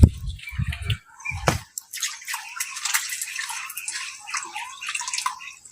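Splashing water sprinkled at an abandoned temple scattered in bursts, with a few low thumps at the start, followed by continuous light spattering and dripping.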